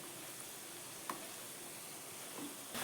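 Mathri pastries frying in oil over a medium flame give a faint, steady sizzle with a couple of soft ticks, quiet and continuous with no talking.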